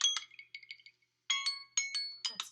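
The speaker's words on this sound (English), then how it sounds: "That's my alarm." A phone alarm goes off as bright, tinkling chime tones in short repeated bursts, with a brief pause before the chimes start again, fairly quiet and clear.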